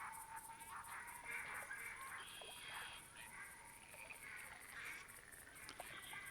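Gadwall ducks from a flock in theHunter Classic give repeated nasal, quacking calls that overlap against a steady outdoor ambience, at moderate distance and fairly quiet.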